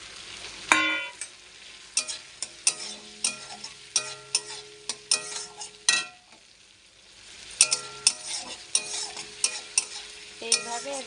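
Fried prawns cooking with a paste of ground bottle gourd leaves in a pan, sizzling steadily while a spoon scrapes and knocks against the metal in a quick, regular stirring rhythm, close and clear, with a short pause midway.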